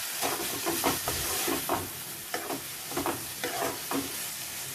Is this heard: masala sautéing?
yes